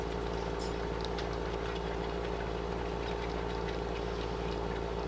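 A steady, droning tractor engine in Farming Simulator 15, straining during stubble cultivation, idles and labors continuously with a low rumble and no change in pace; no voices.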